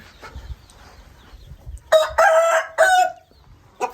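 A Thai Gon-Ngon fighting rooster crows loudly and close by in one long broken call, preceded by faint background chatter and clucking, with a short further burst at the end.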